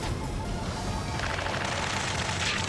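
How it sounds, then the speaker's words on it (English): Dense, continuous gunfire and crashing explosions from the Ace Combat 7 combat flight video game, filling the whole stretch as a loud, noisy wash with no pauses. "Taking fire! We're pinned down! Shoot back!"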